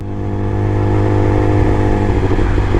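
Motorcycle engine holding a close, steady drone while it overtakes on the outside line of a favourite bend, with a strong low hum and a slight rise in revs.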